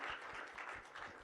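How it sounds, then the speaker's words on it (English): Audience applause at a student town hall, a short burst of steady, fairly loud clapping from many hands with no voices over it. "give yourself a round of applause for being here today"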